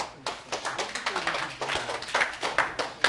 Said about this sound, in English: Give me a big round of applause.